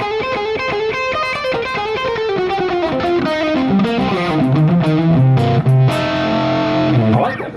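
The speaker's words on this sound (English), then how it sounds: "I like that distortion. It's pretty crisp," An electric guitar played through a NUX MG-101 distortion effect rings out loud and saturated in a descending riff of sustained, crunchy notes with no talking.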